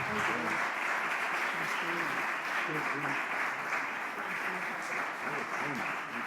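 Steady applause from an audience at a science lecture on microbial evolution fills the whole stretch, with scattered voices murmuring beneath the clapping.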